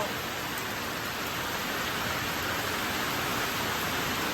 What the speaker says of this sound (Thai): ฝนตกอีกแล้วจ้ะ